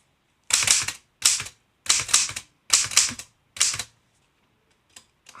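Rapid clacking keystrokes on a vintage typewriter come in five quick bursts separated by brief pauses, close and crisp, then a few faint isolated taps.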